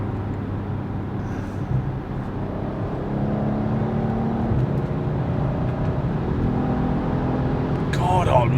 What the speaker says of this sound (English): God almighty, what a noise this car makes.